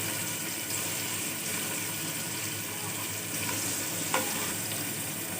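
Onions fry in oil in a pan for hilsa pulao, a steady, close sizzle with a faint scrape of stirring near the end and no talk.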